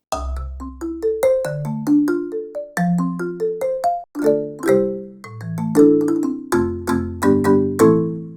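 Dry stock sampled marimba notes struck in quick melodic runs, each mallet hit short and woody with almost no ringing tail, played alone and close.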